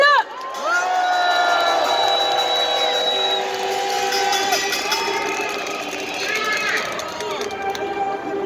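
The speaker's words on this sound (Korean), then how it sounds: "큰 박수와 함성으로 모시겠습니다." Rally crowd cheering and whooping with applause at a candlelight protest march, a loud sustained roar of many voices with rising shouts, steady throughout.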